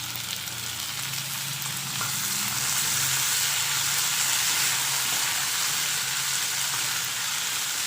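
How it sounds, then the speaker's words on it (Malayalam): Small cubed potatoes frying in oil with spinach for Hyderabadi aloo palak, a steady loud bright sizzle that continues without a break and swells slightly midway, with no talking. "കിഴങ്ങ് ചെറുതായിട്ട് എണ്ണയ്ക്കകത്ത് കിടന്ന് ഒന്ന് ഫ്രൈ ആയി വരണം."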